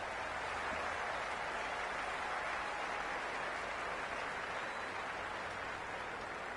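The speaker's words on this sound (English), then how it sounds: "The crowd are really getting quite raucous." Steady crowd roar from a cricket video game on PS5 during a Big Bash League match between Sydney Sixers and Melbourne Stars, a continuous, even wash of stadium noise at low level with no talk.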